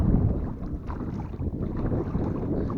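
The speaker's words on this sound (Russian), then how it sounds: "Ветер жесткий, да?" Strong wind blowing across open water beside a small fishing boat, a continuous low buffeting roar with steady loudness and no voices.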